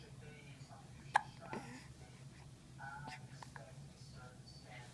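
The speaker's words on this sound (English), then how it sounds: "Do you have hiccups?" A young girl hiccups once, sharp and close, with a second small catch soon after, amid quiet household background and soft adult murmuring.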